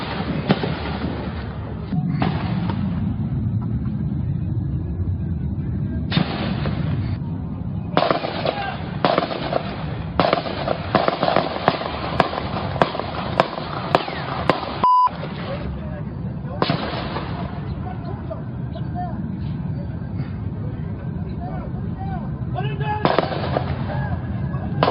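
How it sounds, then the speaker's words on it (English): Gunfire and pistol shots ring out during a shooting in Virginia, rapid bursts of cracking reports in clusters with gaps between them, loud and harsh over muffled background noise. "you hear pistol shots going back at the shooter"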